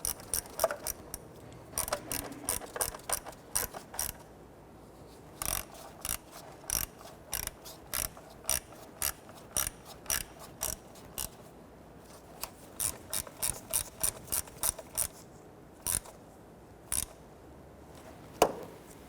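A ratchet snugs down four bolts on the plastic water pump cover of a 1992–1996 Toyota Camry 2.2L four-cylinder engine, giving loud bursts of rapid clicking separated by short pauses, with no talk.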